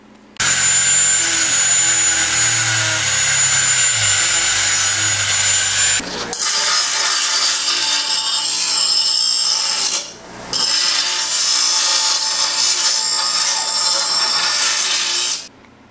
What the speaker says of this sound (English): I'm going to be using angle grinder with a sanding disc on it